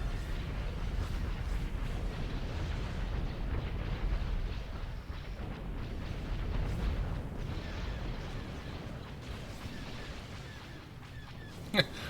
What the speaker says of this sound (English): Those are some big explosions on those rockets